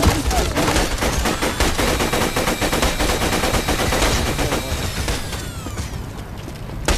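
Rapid automatic gunfire in the Borderlands 2 video game hammers out in a sustained, loud, evenly spaced stream of shots, thinning slightly toward the end.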